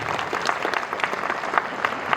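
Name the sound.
audience applause for the girls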